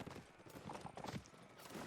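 Horses gallop in a Napoleonic-era cavalry battle in the video game Mount & Blade: Napoleonic Wars, a faint, busy patter of hooves with scattered distant gunfire beneath.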